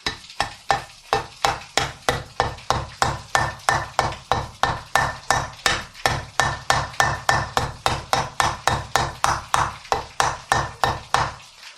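A rubber mallet taps a bearing and shaft into place during motor assembly, giving about thirty-five sharp, evenly spaced knocks at roughly three per second. The strikes are loud and close, with no talk.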